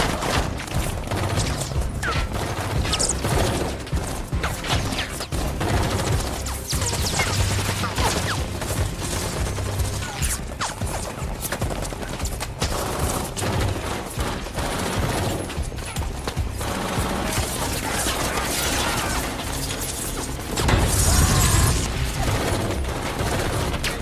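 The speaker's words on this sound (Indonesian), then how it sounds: "Terjadi baku tembak di antara mereka di mana Benning memutuskan untuk masuk" Dense gunfight scene from the 2016 action film London Has Fallen, with sustained volleys of automatic fire, crashes and mechanical clatter mixed with a music score, loud and continuous throughout.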